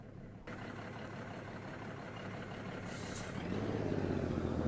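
Kenworth K100 truck with a basic engine around 240 horsepower, idling in a truck-driving simulation game; a steady low diesel rumble runs throughout and grows slightly louder and fuller near the end.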